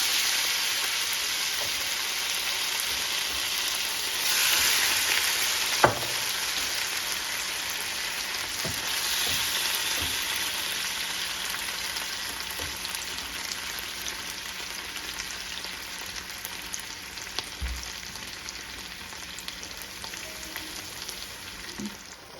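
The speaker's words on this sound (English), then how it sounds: "So we're gonna go ahead and add the meat in." Beef sizzling in a hot skillet or wok for pepper steak, a continuous loud hiss and crackle of frying meat, with a sharp clank of utensils and occasional stirring knocks.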